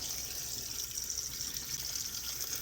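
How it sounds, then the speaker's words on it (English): Tap water runs steadily into a sink while pork loins are rinsed for homemade Canadian bacon, a constant close hiss with no talking over it. "I'm going to go ahead and get the rest of these pork loins rinsed off here"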